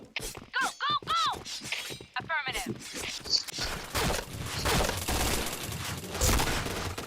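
Rapid bursts of AUG rifle fire in a video game, loud and close, mixed with sharp impact crackles and shattering, while someone talks excitedly over and between the shots.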